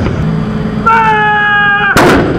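An artillery gun fires at a military base in Afghanistan, a single loud, close blast following a sustained tonal whine.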